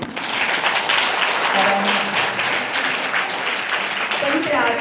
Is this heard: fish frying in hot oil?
no